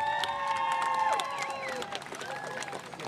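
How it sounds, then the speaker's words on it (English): A crowd at an outdoor Juneteenth flag raising ceremony claps steadily, with high whoops and cheers rising over the applause. "So please give them a round of applause."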